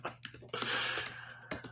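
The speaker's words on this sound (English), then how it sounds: "I'm typing." Soft, quick keystrokes on a computer keyboard come in short bursts of clicks, faint and close.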